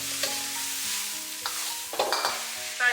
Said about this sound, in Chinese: 然后大火给它翻炒均匀